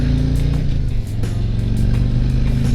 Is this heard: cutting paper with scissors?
no